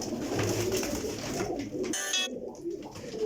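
Pigeons coo softly and steadily at close range, a continuous low throaty murmur with a brief higher chirp partway through and no talking.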